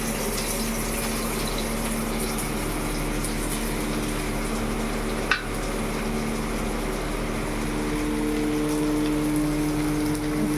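Chopped onion fries in hot oil with a steady, close, rain-like crackle and hiss that carries on throughout, broken by a single sharp click midway.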